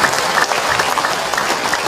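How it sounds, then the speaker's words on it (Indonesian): An audience at a religious talk gives a round of applause, dense steady clapping that stays loud and close for the whole stretch. "Tepuk tangan buat ibu-ibu yang sabar."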